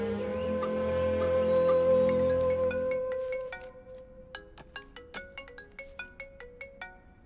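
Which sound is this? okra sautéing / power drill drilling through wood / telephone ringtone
telephone ringtone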